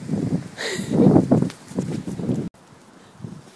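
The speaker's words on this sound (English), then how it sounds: "Wind makes recording voice memos difficult, but at the same time it can sound really cool." Wind buffets a phone's voice-memo microphone outdoors, a low rumbling roar swelling and gusting for a couple of seconds before cutting out to a much quieter, faint hiss.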